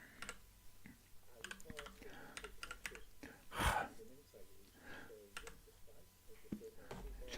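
Computer keyboard typing in a home setting during a live fountain pen chat: scattered clicks and short bursts of keystrokes, fairly close, with muttered talk in between and one louder knock midway.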